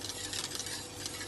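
Egg and milk mixture for caramel custard being whisked in a bowl, a steady close scraping and swishing stir with no breaks and no speech.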